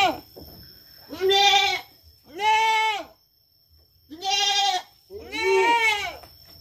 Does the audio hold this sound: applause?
no